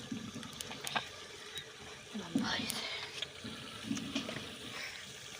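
Lentils rinsed in water in a home kitchen, heard as faint, uneven splashing and pouring with soft clinks, partly under people talking nearby.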